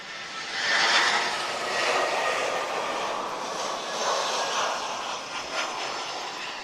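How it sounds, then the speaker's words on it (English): Airbus A320-214 airliner arriving at Lisbon Airport from Faro in a building crosswind, a steady broad engine roar that swells early and stays loud as the jet passes. "A320-214 arriving from Faro, TP1904."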